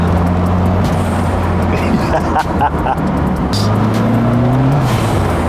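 A turbocharged car engine revs and pulls hard while driving, loud and close, with a rising engine tone under steady road noise and a voice talking over it.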